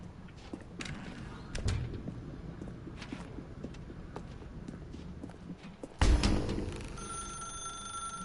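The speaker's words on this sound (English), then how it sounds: "Now pick up the phone" A telephone in The Stanley Parable video game starts ringing partway through, its bright, sustained electronic tone rising suddenly over a dim, shuffling backdrop of soft footsteps and room ambience.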